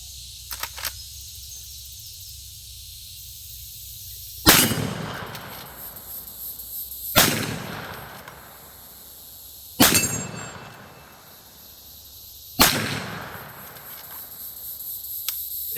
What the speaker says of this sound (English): Let's put some rounds downrange and see if the thing even works.